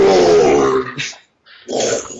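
A human voice imitates a wolf howl, a loud, sustained, wavering tone that breaks off briefly, then resumes in a second shorter burst, heard close up.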